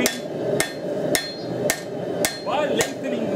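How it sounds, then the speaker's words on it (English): A hammer strikes a steel knife blade being forged, six evenly spaced sharp metallic blows ringing out loud and close with no talk. "actually start hammering"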